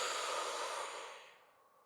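A slow guided exhale through the nose or mouth during a calm breathing exercise, a soft airy breath that fades out over about two seconds, close and quiet with no talking.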